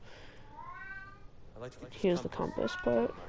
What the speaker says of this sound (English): Sorry about my cat, just don't worry about her.